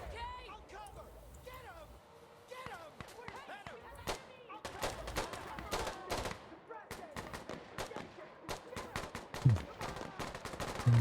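Rapid bursts of gunfire from the Battlefield: Insurgency video game crack in quick volleys and scattered single shots, some near and some farther off, with a voice talking between them.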